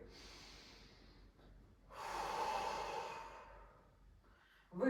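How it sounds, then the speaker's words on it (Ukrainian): A slow, deep breath taken during a breathing and abdominal exercise: a soft, faint inhale, then a longer, louder airy exhale through the nose, close and alone. "І з цього положення ми зробимо глибокий вдих"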